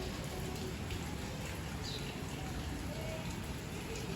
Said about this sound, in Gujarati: બહાર તો જો નકરો વરસાદ આવી ગયો છે